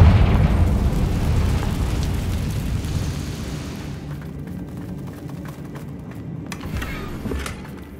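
A Confringo spell explosion in the video game Hogwarts Legacy, with a loud, rumbling blast that decays over several seconds, followed by scattered crackles and debris-like pops.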